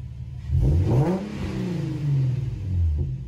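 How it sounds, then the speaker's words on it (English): A car engine revs up twice, rising and falling, with a whooshing intake suction sound riding over the engine note through Z1 intake tubes on an Infiniti Q50, G37 or Nissan 370Z, close by and no voices. "you get that little suction noise too"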